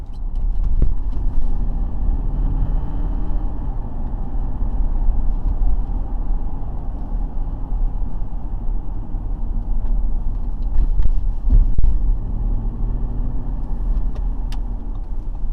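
Audi SQ8 cruising in comfort mode, heard from inside the cabin as a steady, subdued low road and engine hum with no prominent engine note, plus a few faint clicks.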